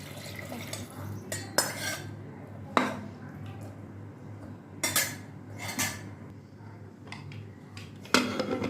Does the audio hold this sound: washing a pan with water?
yes